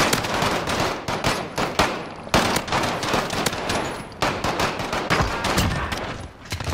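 Rapid automatic gunfire in a video game shooter, sustained bursts of sharp shots hammering on almost without pause, loud and close, with brief gaps between bursts.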